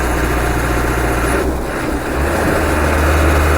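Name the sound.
car engine accelerating in fourth gear on road test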